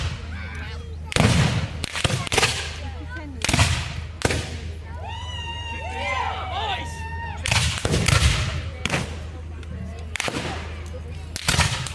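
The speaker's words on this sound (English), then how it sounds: "these weapons are firing only once every 20 seconds-ish" Black-powder muskets and artillery crack out in repeated loud, sharp blasts at an American Civil War reenactment battle, spaced irregularly across the scene, with voices talking between the shots.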